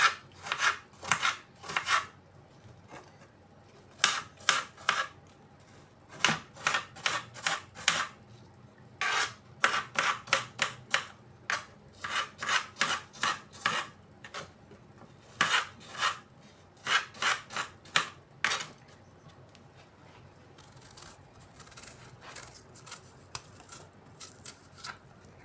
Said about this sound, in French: J'épluche ma deuxième pomme grossièrement.